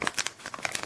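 A small packet of Italian dried herbs crinkles and rustles in a quick burst of crisp crackles as it is emptied out.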